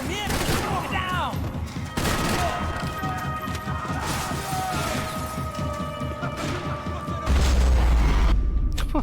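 Dense, chaotic gunfire in Max Payne 3, with repeated sharp shots and crashing impacts packed into a continuous loud barrage, ending in a heavier booming burst.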